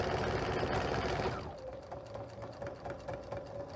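A sewing machine stitching a diagonal line across quilt binding fabric: a loud motor whir at first, then a steady, rapid mechanical clatter of stitching, close by with no voices.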